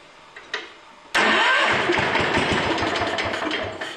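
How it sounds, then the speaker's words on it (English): An Allis Chalmers 310 tractor engine, just given cleaned ignition points and starting fluid, clicks briefly, then catches suddenly and roars into a loud, close, rough idle that continues steadily to the end. "I'm going to see if that's enough to fire the engine after cleaning those points"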